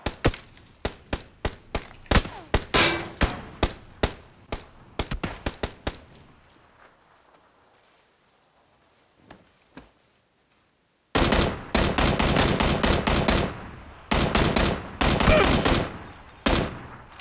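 Rapid bursts of gunfire from PUBG fire off in quick, repeated volleys, loud and close, then fall to a near-silent pause before another dense, sustained string of shots resumes.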